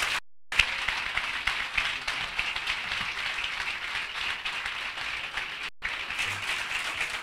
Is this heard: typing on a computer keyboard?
no